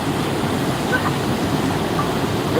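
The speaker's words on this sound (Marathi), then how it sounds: "पाण्याचा प्रवाह जास्त वाढलेला आहे आता" Swollen Chandani river in flood at Sirsav, its heavy current pouring past in a constant broadband roar, near and loud with faint wind, no clear voices.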